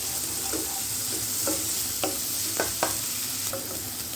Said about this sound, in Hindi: प्याज जो है हमने 3 से 4 मिनट भून लिए हैं